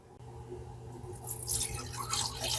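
Very dirty water drips and trickles while a fragile old compo doll and its fabric are cleaned, a soft liquid patter that gradually grows busier and louder, close by with no talking.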